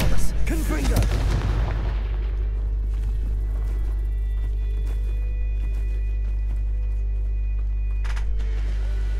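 Spell blasts in Hogwarts Legacy, fired as a Confringo spell: a burst of loud booming impacts in the first couple of seconds, followed by a steady low rumble and a thin sustained tone, with a faint pop near the end.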